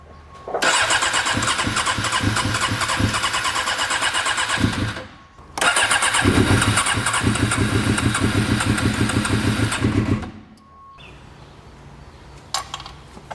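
A Suzuki GSXR750 motorcycle that had not run for a long time cranks and fires, with two long loud bursts of engine noise separated by a brief pause, then quiet with a few faint knocks.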